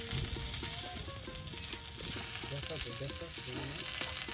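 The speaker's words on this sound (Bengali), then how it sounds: "তেল দিয়ে কিন্তু আপনার পাঙ্গাস মাছ প্রথমে ভাজি করে নিবে" Pangas fish fries in oil in a pan on a village stove. A loud, steady sizzle runs throughout, with occasional clinks and scraping of stirring and no clear speech.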